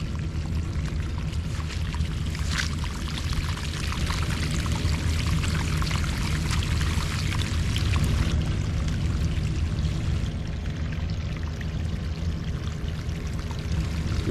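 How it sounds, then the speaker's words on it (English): Groundwater gushes steadily out of a French drain pipe fed by a gravel perforated line, a loud, continuous close-up pouring splash with no talk. "Look how much water we have coming out from the French drain."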